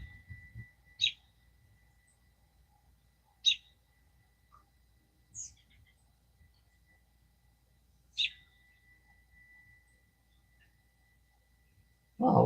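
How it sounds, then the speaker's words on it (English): Birds call outdoors at dawn: a few sharp, isolated chirps ring out several seconds apart against near silence, faint and fairly distant. "I like the fact that we can see the birds flying around."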